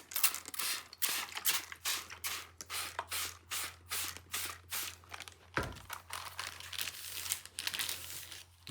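A spray bottle mists water over a sheet of paper in quick, evenly spaced spritzes, a rapid hissing pulse that repeats close to the listener for several seconds.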